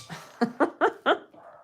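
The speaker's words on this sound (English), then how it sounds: "Oh, Marley's barking." A house dog barks indoors in a quick run of four sharp, fairly loud barks, then falls quiet.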